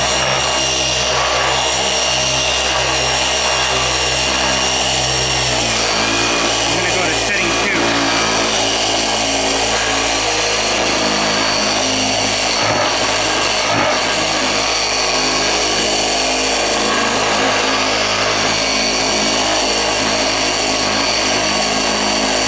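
A Lake Country 4000 polishing pad cleaner runs with a steady, loud motor whine and hum that shifts in pitch partway through, while a person talks over it.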